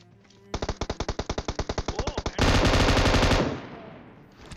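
Rapid M249 light machine gun bursts in PUBG Mobile, a fast train of about twenty sharp close shots followed by a denser roaring volley that tails off, with no talk over it.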